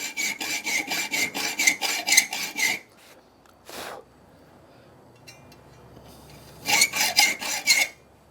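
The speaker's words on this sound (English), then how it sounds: "go back to the file and do exactly the same in those saw cuts that you've just made" Rasp file scraping wood inside fresh saw cuts, a close, loud series of rhythmic rough strokes, then a pause with a brief rub, then another burst of quick filing strokes.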